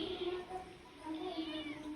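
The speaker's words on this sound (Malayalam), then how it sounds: "നമ്മുടെ കുട്ടി പൂച്ചകളൊക്കെ ഉണ്ടോ" A kitten meows in a home, a few thin, close mews repeating over the two seconds with faint background noise.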